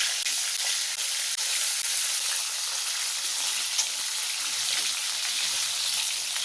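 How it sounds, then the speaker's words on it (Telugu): Whole eggplants frying in a few spoons of oil in a kadai over a medium flame give a steady, close, even sizzle that runs throughout with no talking. "వేడయ్యాక మనం ఒక్కొక్క వంకాయ ఇందులో వేసుకొని మీడియం ఫ్లేమ్ మీద మంచిగా ఫ్రై చేసుకోవాలి."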